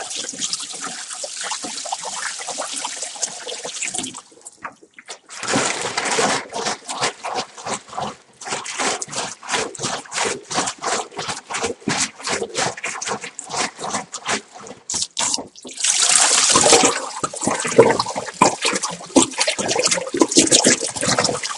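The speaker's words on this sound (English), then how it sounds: "I'll just pour that stuff into the sink." Leftover apple wine (apfelwein) pours and gurgles out of a carboy into a sink in uneven splashing bursts, starting and stopping several times, loud and close.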